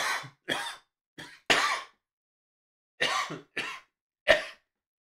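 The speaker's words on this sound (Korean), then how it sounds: "제가 기침이 좀 나서" A series of sharp coughs in two clusters, four quick ones, a pause, then three more, close and fairly loud with silence between.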